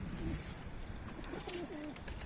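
Domestic pigeons coo softly inside a coop, several rolling calls in short bursts against a steady background hiss. The birds sound fairly close but quiet, and no one speaks.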